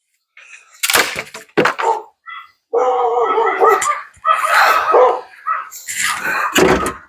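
Dogs barking and yipping in short bursts, loud and close, with a voice talking between and over the barks.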